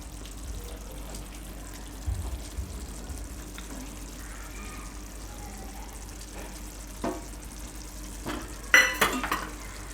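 Cream is stirred into chana methi curry in a pan with soft, quiet scraping and a faint sizzle, ending in a brief louder clatter of utensil on metal.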